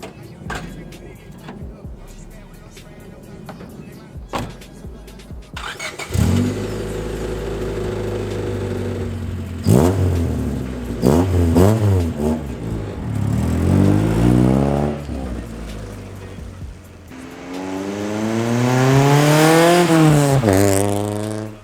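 An EK hatch car's engine revs repeatedly while driving, rising and falling in loud, close sweeps through the gears, with a quieter idle at the start before the revving builds.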